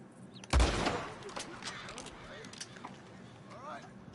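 Gunfire in the Red Dead Redemption 2 video game, one sharp loud shot with a rolling echo, then fainter scattered shots and noises, with talking throughout.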